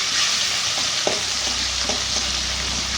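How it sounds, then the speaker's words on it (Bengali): Shrimp frying in a pan for a curry, a constant close sizzle with a few scraping stir strokes of a spatula breaking through, fairly loud and without talk. "চিংড়ি মাছগুলো ভাজা হচ্ছে"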